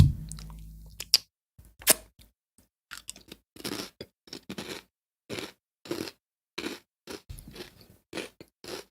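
Red pepper being chewed close up makes irregular bursts of wet crunching bites and squishes, separated by short quiet gaps, with no talking.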